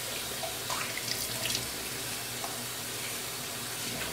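Water runs steadily from a tap into a sink to rinse off a blueberry face mask, a close, even hiss with small splashes as hands move through the stream, no talking.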